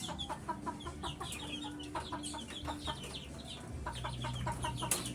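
Pet chickens cluck in short, repeated calls at close range, some bursts overlapping, with a steady low hum of farmyard background underneath and no talking.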